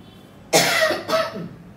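Two close, dry coughs in quick succession, the first louder and the second shorter, in an otherwise quiet room.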